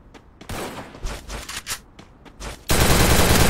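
Gunfire in a shooting video game: scattered shots and bursts, then a loud, dense volley of sustained fire close up at the end.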